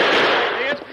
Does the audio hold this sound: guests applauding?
no